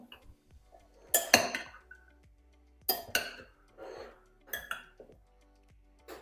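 A utensil clinks and scrapes against a bowl in several irregular bursts, close and crisp, with quiet pauses between the strokes.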